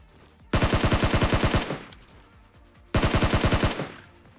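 Two quick bursts of tap-fired gunshots in the PUBG Mobile video game, each a rapid string of loud, sharp cracks about a second long, separated by a short quiet gap.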